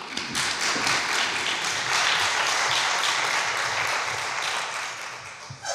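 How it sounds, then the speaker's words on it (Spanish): An audience at a magazine presentation claps to welcome the speakers, a dense, sustained burst of applause with a few distinct close claps that tapers slightly toward the end. "pedirles a ustedes un aplauso de bienvenida a estos atrevidos emprendedores"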